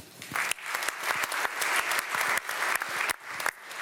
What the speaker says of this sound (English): this is probably the biggest applause that a Greek person got in Germany in the past few months